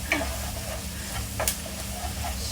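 Ingredients for a prawn curry, including chili, sizzle and fry in a pan while being stirred, with a steady crackling sizzle and light scraping strokes of the spoon close by, no talk over it.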